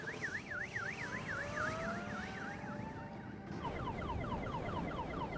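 An electric motorcycle sounds a car alarm, a moderately distant wailing siren that sweeps rapidly up and down, then switches to a quicker warbling pattern.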